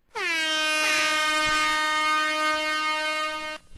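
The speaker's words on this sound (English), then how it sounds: "Air horn for Stu's mom." A single loud air horn blasts for about three and a half seconds, a bright, harmonic-rich sustained honk with a sharp start and a fairly abrupt cutoff, used as a sound effect on a talk show.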